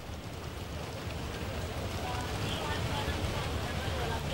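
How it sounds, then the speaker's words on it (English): Heavy rain falls steadily during Lee Kuan Yew's state funeral procession in Singapore, a dense, unbroken hiss that holds at an even level throughout. "Sohail, there's heavy rain there in Singapore."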